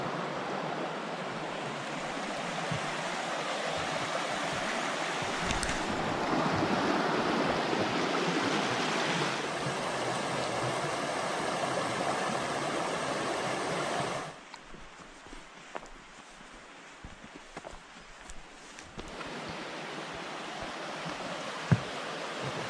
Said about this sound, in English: Right here at this campsite, you got a creek, and then across the way, look at this beautiful waterfall.